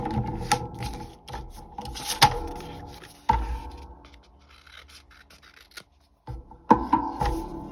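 Scissors snipping through paper tags cut from a collage masterboard, several crisp close cuts with rustling between them and a short pause.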